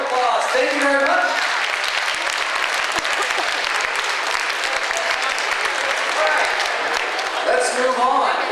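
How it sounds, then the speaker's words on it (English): An audience at a mentalist stage performance applauds steadily, a dense, loud wash of clapping that fills the scene and holds without a break. "Sam, give him a round of applause."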